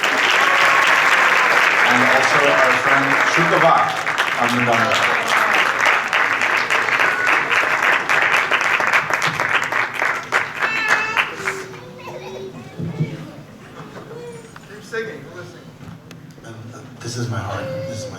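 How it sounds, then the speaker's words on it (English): An audience applauds a devotional music group at a Bhakti Mela gathering, loud sustained clapping that thins out partway through as someone speaks over it and the crowd settles into chatter. "Please give them a round of applause."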